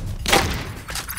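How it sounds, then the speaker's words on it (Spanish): Shots fired at the player in the Free Fire battle royale game, two loud close cracks, the first stronger, with no talking. "Me están disparando, me están disparando."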